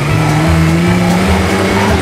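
A Blista Impact car in a video game accelerates hard up a steep ramp, its engine holding a loud, steady high-revving drone with tire noise throughout, close and continuous with no talk.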